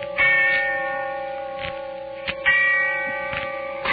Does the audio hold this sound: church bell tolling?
yes